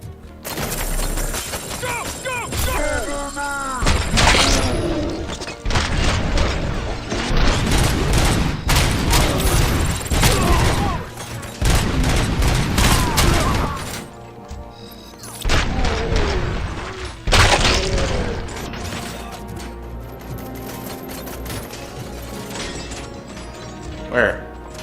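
Gunfire from the video game Robocop: Rogue City, with loud, dense bursts of shots and impacts crowding the mix, interrupted by short lulls while game voices talk over the action.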